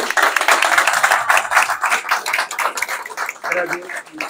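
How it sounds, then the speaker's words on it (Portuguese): Brief burst of clapping from an audience thanking a speaker after a corporate talk on talent retention, uneven and patchy, mixed with voices talking over it. "Salva de palmas para ela"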